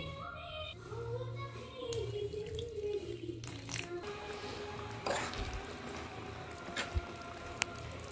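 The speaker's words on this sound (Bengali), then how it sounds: "এবার আমি একটু মিক্সড করে নেব, সামান্য একটু জল দিয়ে দেবো।" Water goes into a chili fish sauce and it is stirred, a soft, quiet trickle followed by faint squishing and small scraping sounds.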